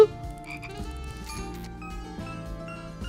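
A cartoonish frog croak sound effect from a Touhou fan video game, sounding over steady chiptune-style background music and bright tinkling jingles, with no speech.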